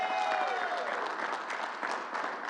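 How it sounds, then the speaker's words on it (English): Audience applause at a press announcement by the New York governor in Queens, a steady wash of many hands clapping that fills the whole stretch, with a voice faintly audible beneath it. "Let's give the new grandfather a bigger round of applause."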